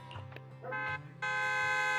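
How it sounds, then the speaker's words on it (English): Several trucks in Zenless Zone Zero sound a loud, sustained, tonal horn blast that swells after a few shorter buzzing notes, with no voices. "A loud honk echoes as several trucks with the Leaps and Bounds logo drive into the open area"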